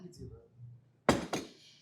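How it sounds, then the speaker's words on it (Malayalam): A rice bowl slid across a table among other dishes gives two sharp, close ceramic clinks in quick succession near the end, after a stretch of low, quiet talk. "ഈ റൈസിന്റെ ബൗൾ ഇങ്ങോട്ട് നീക്കോ."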